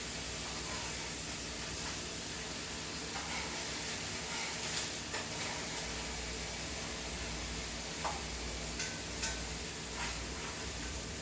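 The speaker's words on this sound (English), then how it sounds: "So this is browning very nicely. I'm going to flip these over." Food browning in a pan in a teaspoon of avocado oil, a dense steady sizzling hiss throughout with a few light taps and pops, close and alone.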